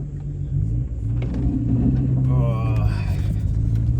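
A BMW 135i with its N55 engine cruises along, its steady low rumble and engine drone filling the cabin, with a faint voice briefly rising over the hum.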